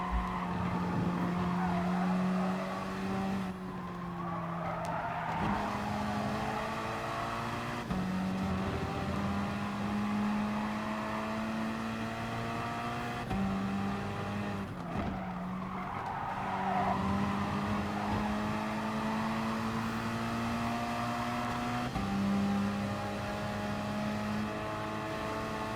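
Gr.4 race cars, a Ferrari among them, roar around the Lago Maggiore West circuit in Gran Turismo Sport, engines droning and rising through gear changes with occasional tyre squeal, steady and fairly loud throughout.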